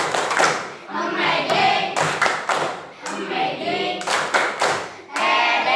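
Classroom clapping from children and a teacher at the close of a school lesson, bursts of hand claps coming and going over several seconds, mixed with lively voices talking and calling out.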